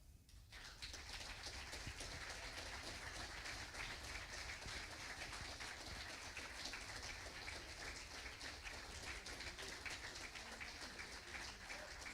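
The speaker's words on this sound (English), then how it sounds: "So please give a round of applause to Scott Brown" Audience applause for Scott Brown at a football club's Player of the Year awards night, a dense, steady wash of clapping that starts abruptly and holds at an even level throughout, sounding like many hands in a large room.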